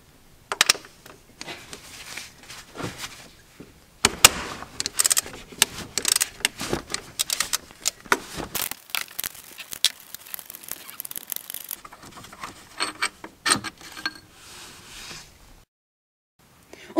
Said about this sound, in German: Als nächsten Schritt die obere Befestigungsschraube vom Anlasser rausschrauben.